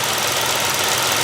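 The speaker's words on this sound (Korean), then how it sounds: "엔진 소리 한번 들어볼게요" A 2017 Chevrolet Spark engine idles steadily, a constant mid-pitched hum with a faint ticking under it, heard close and alone.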